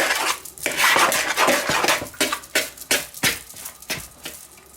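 Mince pie dough is mixed with a knife in a bowl, giving a rapid series of loud clinks and scrapes of metal against the bowl, close up, growing sparser toward the end, with no talking.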